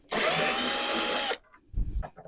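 A power drill backs screws out of a T&M Systems FG115s subwoofer, one loud, steady whir lasting just over a second, followed by a few low knocks as the tool is set down.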